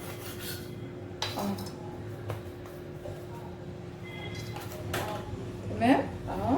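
Knife slicing through soft homemade marshmallow dusted with starch and sugar, with quiet rubbing cuts and a few scrapes and clicks against a surface under a low steady hum, while someone speaks.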